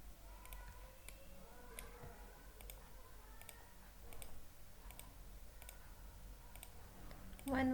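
Computer mouse clicks while selecting segments one by one in SketchUp, sharp faint ticks at a steady pace under a quiet room hum, with soft speech running throughout.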